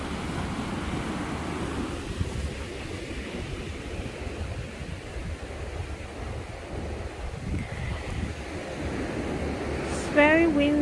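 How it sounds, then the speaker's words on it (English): Strong wind from a tropical storm rushes steadily across the microphone at a St. Kitts resort, a broad continuous roar with faint surf-like noise underneath and a brief sharper burst near the end. "But yeah, it's pretty windy out here."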